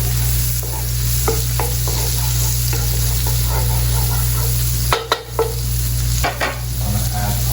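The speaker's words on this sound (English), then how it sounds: "And to the pan we're going to add our 2 tablespoons of butter." Two tablespoons of butter melting in a pan for macaroni and cheese, a steady close sizzle with a few light stirring taps over a constant low hum.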